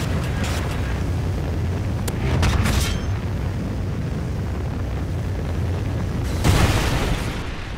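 A Trinity rocket strike detonates in Call of Duty: Ghosts during a hardcore team deathmatch on the Sovereign map, a sustained roaring rumble with two heavier booming swells, loud and close.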